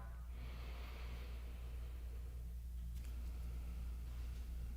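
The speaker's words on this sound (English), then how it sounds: "Listen to your breathing and let your breath lead your body." Soft, slow breaths during a gentle qigong heart-opening exercise, a long quiet inhale swelling and then easing into an exhale, faint and close against a low steady background hum.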